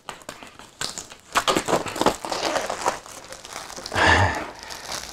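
Plastic wrap is torn and pulled off a MacBook Pro Mid 2019 box with close crinkling and crackling. The rustles come in uneven bursts and end in a louder rip near the end.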